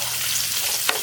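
Curry leaves and thickly sliced onions fry in oil with a dense, close sizzle that holds steady and ends in one brief sharp tap.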